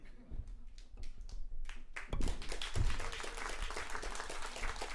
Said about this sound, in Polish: Brawa oczywiście raz jeszcze